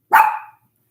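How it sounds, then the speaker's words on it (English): A dog named Pepper lets out one sharp, loud bark close by, short and alone, followed by silence. "Not what you're barking at."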